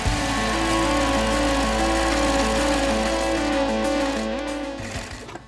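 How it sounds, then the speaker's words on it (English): A sewing machine runs steadily while top stitching a fabric face mask with a pocket, giving a close, continuous mechanical hum that winds down near the end. "we do want to give this a nice little top stitch to keep it in place"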